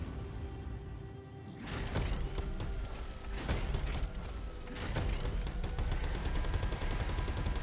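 Rapid cannon fire from an Ares starfighter in the space game Star Citizen, a dense train of sharp repeated shots over a steady mechanical rumble, continuous and fairly loud with no talking.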